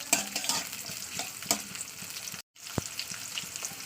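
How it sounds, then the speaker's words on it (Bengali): Onions sizzle steadily as they fry in a pan, with scattered clinks and stirring scrapes over a dense crackling hiss and one brief dropout. "পেঁয়াজটা একটু লালি করে ভেজে নেবো"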